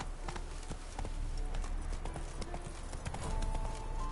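Geralt's horse Roach trotting in the video game The Witcher 3: Wild Hunt, a steady clip-clop of hooves at an even rhythm, close and clear over low ambient noise.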